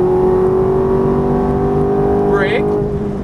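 A Ferrari F430 accelerates on a racetrack, its engine holding a loud steady tone before a quick rising sweep near the end, like an upshift, with a voice coaching over the engine.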